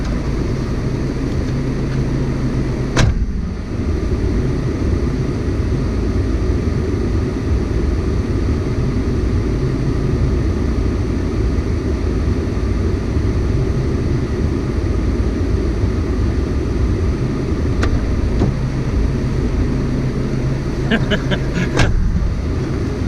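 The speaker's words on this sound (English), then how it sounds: "I am going to put it into four-wheel drive because it's getting a bit corrugated" A four-wheel drive vehicle rolls along a corrugated dirt road on an Australian outback trip, its steady engine and rumbling tyres droning continuously at close range, with brief rattling knocks from the cabin near the start and end.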